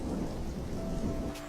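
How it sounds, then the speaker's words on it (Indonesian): Heavy rain pours in a steady dense hiss with a low rumble of thunder rolling beneath it, continuous and fairly loud, with no voices. "kulihat hujan lebat pun turun"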